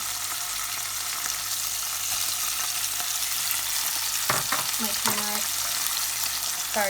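Prawns and jaggery frying in a coconut curry pot, a continuous broad sizzle with a few stirring clatters near the end, heard alone without talk.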